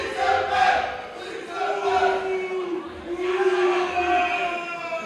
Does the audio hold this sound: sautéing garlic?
no